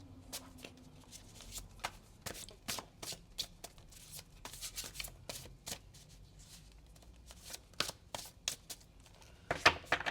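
Chunky tarot cards are shuffled by hand in a steady run of crisp, close riffles and slaps, with a denser flurry near the end and no voices.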